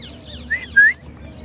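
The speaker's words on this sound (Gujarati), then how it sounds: "ટોટલી માં ભાઈ પોપટ છે" Parrots give two sharp, bright calls close by at a spot they share with pigeons, brief squawks over quiet outdoor background hum.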